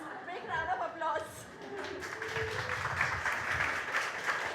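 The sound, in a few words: audience applause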